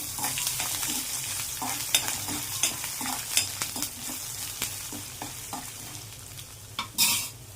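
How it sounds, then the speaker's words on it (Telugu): Ginger pieces and tempering spices fry in hot oil for mango pulihora, giving a steady close sizzle broken by repeated metal stirring clinks and scrapes, with no talking. "వీటితో పాటు అల్లం ముక్కలు వేగుతాయి."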